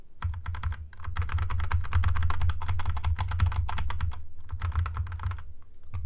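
Fast continuous typing on a computer keyboard while playing Crusader Kings 3, with dense rapid key clicks close up and a few brief pauses.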